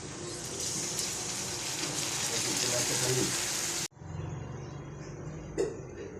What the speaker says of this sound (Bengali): পেঁয়াজটা ভালো করে ভাজা হয়ে গেছে, একটু পানি দিয়ে দেবো।